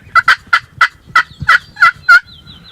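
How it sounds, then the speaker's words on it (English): A wild turkey tom gobbling during a Wisconsin spring youth hunt, a loud rapid run of eight gobbling bursts in quick rhythm, clear and close. "We heard another tom gobbling and drumming somewhere in front of us."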